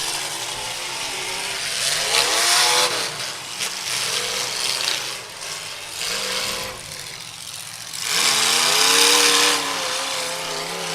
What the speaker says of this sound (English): does that sound like an LS, or is that even?